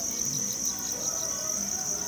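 Farmed crickets chirp in a steady, shrill, continuous trill, close and dense, with no pauses across the short stretch.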